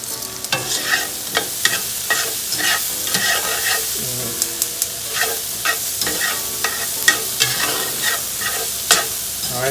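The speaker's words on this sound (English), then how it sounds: "so the peppers and onions are sauteed right" Peppers and onions saute in oil and bacon fat for Southern shrimp and grits, a spatula scraping and tossing in repeated strokes over a constant close sizzle.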